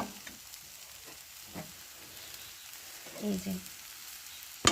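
Shrimp paste with taro leaves being stirred in a kadai: a soft, low sizzle with occasional scrapes and stirring knocks, brief louder clatters near the end, and a person speaking briefly over it.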